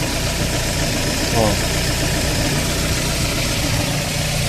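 Car engine idling fitted with a different idle solenoid, a steady, even mid-pitched hum running throughout with a brief higher rattle near the start, heard close with speech over it.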